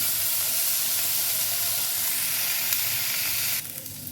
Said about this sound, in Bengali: এটা আমরা এখন ভাজা করে নেব।